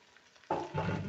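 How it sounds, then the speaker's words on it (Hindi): Okra and freshly added chopped onion frying in a pan over medium-high flame in a home kitchen, a quiet hiss that jumps into a loud, sustained sizzle partway through, with no talking. "भिंडियाँ हमारी फ्राई होना स्टार्ट हो गई हैं।"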